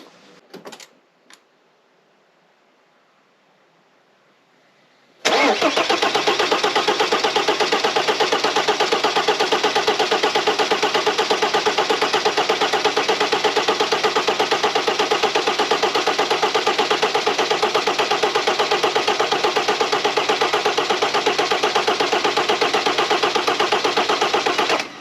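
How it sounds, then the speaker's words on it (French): After a few quiet clicks, the starter of a Mercedes W210 E290 with an OM602 diesel cranks loudly and continuously for about twenty seconds, a close, rapid, steady churning with no start. "le but, c'est de tirer sur le démarreur jusqu'à ce qu'on ait du diesel qui sorte par ici."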